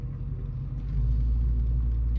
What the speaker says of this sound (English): I'll let you guys listen to how it sounds right now when I put it in gear and I start releasing the clutch.